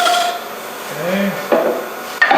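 Steel scraper held at about 45 degrees with a knife edge, lightly cutting a spinning wooden bowl on a lathe: a soft continuous rasping hiss, close by, with a couple of sharper catches near the end.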